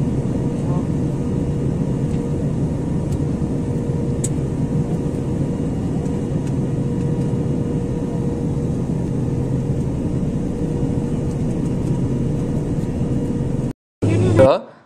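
Inside a domestic passenger plane coming in to land at Biratnagar airport, a steady, loud cabin engine drone and rumble runs without a break, cuts out briefly near the end, then returns.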